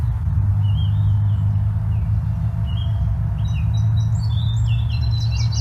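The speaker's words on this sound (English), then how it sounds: "So that first dee dee dee dee dee dee was the song sparrow, and then right after it, almost overlapping it, is the yellow warbler." Song sparrow song followed closely by a yellow warbler, heard outdoors on a morning birding walk: thin, high chirping phrases over a steady low rumble of background traffic, the warbler's bright notes crowding in near the end.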